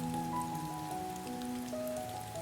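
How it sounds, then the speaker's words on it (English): Monsoon rain falls steadily on a surface near a balcony, an even, dense patter with scattered nearer drops, heard alone under faint soft tonal music. "The rain is more interesting."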